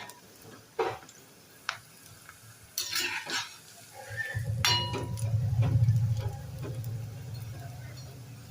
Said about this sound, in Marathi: थोडे दोन तीन मिनिटं फ्राय होऊ द्यायचे आणि नंतर झाऱ्याने हलवून घ्यायचे